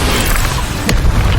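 An Incendio fire spell is cast in Hogwarts Legacy, a loud, dense roaring whoosh of flame that fills the whole moment, with a sharp burst cutting through partway.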